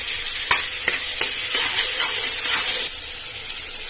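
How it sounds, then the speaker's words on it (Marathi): Dal-khichadi mixture being stirred in a frying pan, a steady sizzling hiss with a few sharp scrapes of the spoon against the pan, close and continuous throughout. "आणि ते आता चांगले ढवळून घेऊया"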